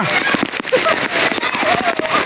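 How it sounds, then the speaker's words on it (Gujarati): Steady heavy rain pattering hard on surfaces nearby in Ahmedabad, with voices talking over the downpour and children playing. "વરસાદ જોરદાર વરસાદ પડ્યો છે"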